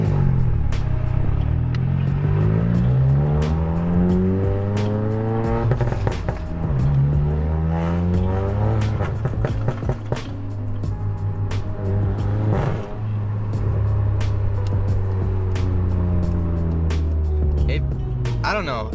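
A Volkswagen MK7 GTI with a muffler-delete exhaust kit revs loudly and repeatedly, its engine pitch sweeping up and down with sharp crackling pops throughout, up close, while people talk over it.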